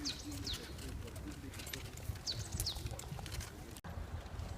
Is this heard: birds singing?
yes